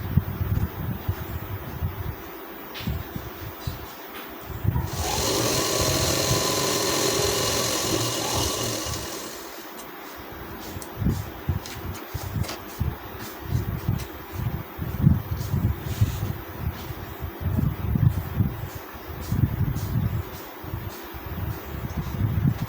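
An electric sewing machine stitches a trouser seam on a full-elastic trouser with a half-inch allowance: a steady mechanical motor hum with fast needle ticking, and a louder, brighter run in the middle, with no talking.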